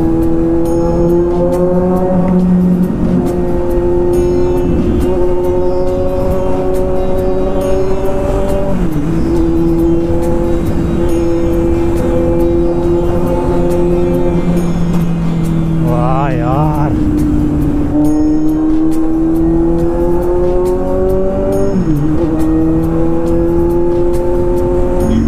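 A Kawasaki Z800 sport bike's high-pitched inline-four engine revs and holds a steady howl, echoing in an enclosed tunnel, with rising and falling pitch through gear shifts.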